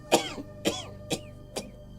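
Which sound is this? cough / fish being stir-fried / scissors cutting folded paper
cough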